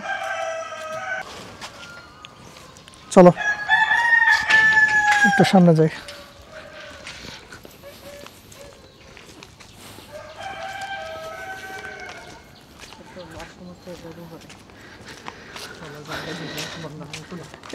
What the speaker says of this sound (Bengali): যেমন এখানে অনেকগুলো মুরগি, ট্রিটমেন্টের জন্য রাখছে